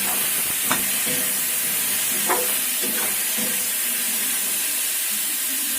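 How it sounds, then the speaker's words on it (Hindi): Potatoes and tomatoes frying in a pan, a soft continuous sizzle and hiss with several light spatula taps and scrapes scattered through, no talking. "इसमें हम टमाटर डाल देते हैं, इसको इसी तरीके से चला के भून लेते हैं।"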